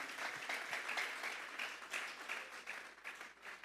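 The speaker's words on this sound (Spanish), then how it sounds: "Vamos a darles ofrenda de palmas a Dios en esta hora." A church congregation claps in steady, dense applause during a Spanish-language sermon, a continuous crackle of many hands, moderately loud and fairly even throughout.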